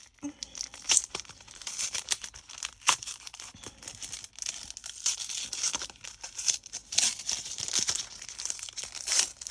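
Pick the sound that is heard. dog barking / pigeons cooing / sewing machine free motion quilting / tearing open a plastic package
tearing open a plastic package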